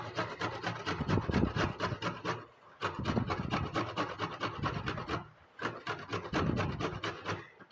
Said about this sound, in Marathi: आता हे आलं धुवून घेतलंय, हे असं किसून घेऊन ते पण घालूया आतमध्ये.